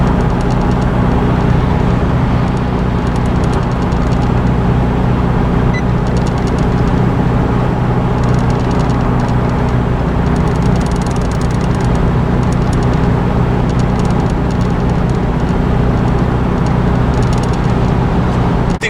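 A car cruising on a long straight highway from Brussels toward Antwerp in Flanders, heard as a constant loud road and engine roar with tyre hiss, steady and unbroken throughout, no voices.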